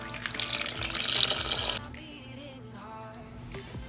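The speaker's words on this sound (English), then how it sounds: "And then we add more water in it." Water streams noisily into a pot for making tea eggs for under two seconds, then stops, leaving quiet clinks and faint room sounds.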